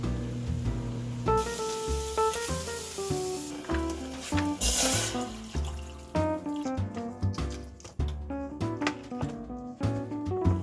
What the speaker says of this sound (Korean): 다시 고기를 익힐 겁니다.